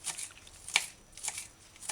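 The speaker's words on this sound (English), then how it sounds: "So dice the scallion fine." Scallion being finely diced with a knife on a cutting board: a few quick, crisp chopping taps, one sharper stroke standing out, close and without speech.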